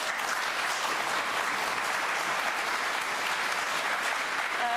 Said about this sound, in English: That's a good round of applause.